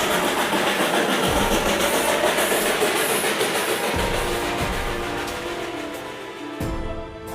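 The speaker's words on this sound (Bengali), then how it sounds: "রাস্তার পাশে দিয়েই টয় ট্রেন ছুটে চলেছে।" The Darjeeling toy train rumbles steadily along beside the road with rhythmic clacking every few seconds, loud and close, the noise easing slightly toward the end.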